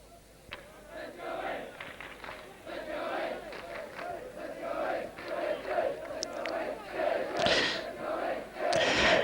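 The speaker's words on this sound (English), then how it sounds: "Crowd calling for the try." A schoolboy rugby crowd at a 1st XV match in 1985 roars and shouts for a try, a distant mass of chanting voices swelling steadily louder and more urgent across the passage.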